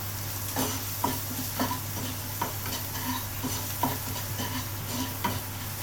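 Onions with a pinch of salt sizzle in a pan for tomato chutney while a spoon stirs them, scraping in regular strokes about every half second over a steady, close frying hiss.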